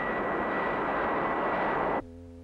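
A powerful jet engine, producing a 40 mph crosswind for car testing, roars loudly and steadily at close range, then cuts off abruptly, leaving a low mechanical hum.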